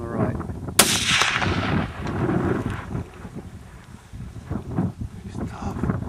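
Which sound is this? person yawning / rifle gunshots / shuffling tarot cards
rifle gunshots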